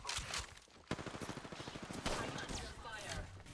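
Rapid automatic gunfire in a ranked Apex Legends firefight, a dense stream of sharp shots fired close by with a heavier blast near the start, over a steady game din.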